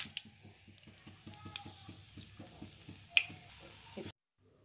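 Chillies spluttering in hot oil in a pan, a steady run of rapid crackling pops with one sharper burst near the end, close and alone before cutting to silence.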